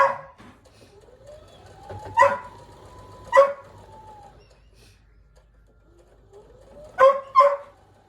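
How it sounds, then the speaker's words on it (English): A dog barks in short pairs, sharp and fairly close, with rising whining tones between the barks and quiet gaps. "He's only barking because he see the other dogs standing at the door."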